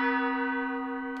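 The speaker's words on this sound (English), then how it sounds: "the gong or the tam-tam." An orchestral gong or tam-tam rings with a steady, deep pitched tone that slowly fades over its full length. The sustained shimmer is close and loud, with no talking.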